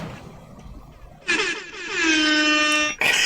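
A blaring air horn sound effect bursts in after a quiet stretch, sounding as a loud sustained multi-tone blast that holds steady for over a second before cutting off, followed by another brief burst.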